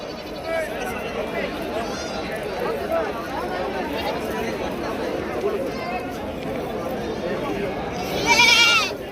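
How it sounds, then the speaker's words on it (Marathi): A Beetal goat bleats repeatedly at a busy livestock market, its wavering calls rising out of steady crowd chatter, with people talking nearby and one louder bleat near the end. "आता ही बिट्टलची शेळी विक्रीसाठी आहे"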